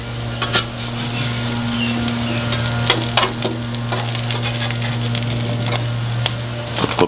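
Sausage and eggs frying on a flat outdoor griddle with a constant loud sizzle, crackling pops and scraping spatula strokes, over a steady low burner hum.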